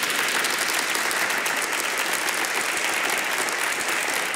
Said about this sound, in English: And a big round of applause, ladies and gentlemen